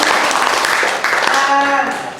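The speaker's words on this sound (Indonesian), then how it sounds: "Tepuk tangan untuk Bapak Ibu Guru hari ini" A school gathering claps for the teachers, a dense patter of many hands filling the room while a voice speaks over it toward the end.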